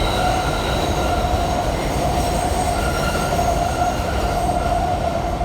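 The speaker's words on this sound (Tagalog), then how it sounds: "Sana may makita tayong subway, ng train na dumaan" A subway train in New York City rumbles past close by with a steady, loud roar and a faint wheel squeal, no pauses across the pass.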